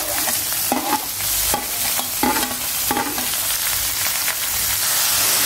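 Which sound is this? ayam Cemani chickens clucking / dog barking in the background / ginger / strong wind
ginger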